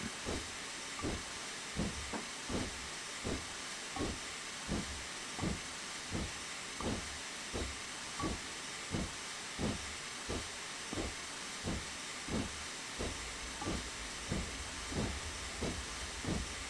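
A steam locomotive on the Darjeeling Railway in Train Simulator Classic chuffs in a steady, evenly spaced rhythm of exhaust beats over a constant bright hiss, fairly faint and without voices.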